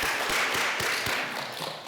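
Short burst of applause from a church congregation at a Sunday service, a soft crackle of scattered claps with a few sharper taps, moderately close and without talk over it.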